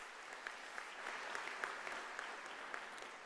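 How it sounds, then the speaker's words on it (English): Quiet, distant applause from an audience at a university's academic-year opening ceremony, a soft continuous patter with occasional sharper claps. "Let's give them a round of applause"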